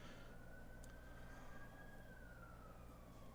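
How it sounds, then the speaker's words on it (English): A distant siren wails steadily in the background, a faint sustained tone gliding slowly in pitch over a low rumbling ambience. "Hey, listen to the siren in the background."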